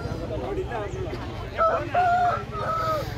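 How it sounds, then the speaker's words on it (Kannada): Roosters crow at a busy poultry and Aseel bird market near Bangalore, loud drawn-out calls rising over a constant crowd babble of people talking nearby. "ಅಲ್ಲೂ ಇದೆ ಹುಂಜಾಗಳು."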